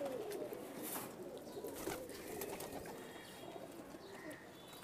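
Loft pigeons coo faintly while being fed by hand, low murmuring calls under a steady background hum with occasional light rustles.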